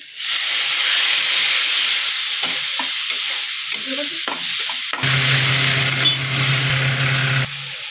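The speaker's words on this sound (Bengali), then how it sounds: "দিয়ে দেবো হালকা জল" Water hits a hot pan of tempered spices for moong dal with fish heads, bursting into a loud, steady sizzle and hiss that shifts and settles partway through, with faint stirring clinks.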